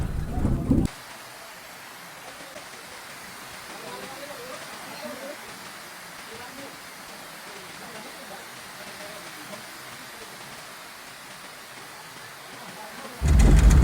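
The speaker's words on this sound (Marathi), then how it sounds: "पाऊस एवढा मुसळधार होता की समोरची गाडीच दिसत नव्हती" Heavy rain pours down steadily in a thunderstorm, a dense, even hiss that holds for about twelve seconds, framed by brief louder bursts at the very start and end.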